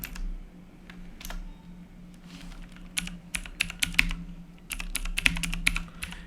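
Keys on a computer keyboard are tapped out while a CONCATENATE formula is typed into MS Excel: irregular bursts of close, crisp keystrokes over a low steady hum, quickening toward the end.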